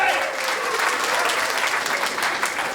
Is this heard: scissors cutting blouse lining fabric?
no